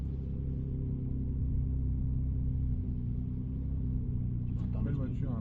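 Ferrari 296 GTB engine at a racetrack in Le Luc, a steady low rumble and drone heard close from inside the car, holding a constant note throughout with a brief faint rattle near the end.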